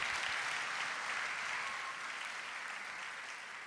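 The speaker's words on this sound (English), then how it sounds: "How about another round of applause for Dr. Arthur Zanin?" Audience applause at a Christmas brass concert, a dense, steady wash of clapping from a crowd that fades gradually toward the end.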